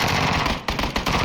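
Rapid automatic fire from a Vector submachine gun in PUBG, a dense continuous burst with brief breaks, loud and close over game ambience.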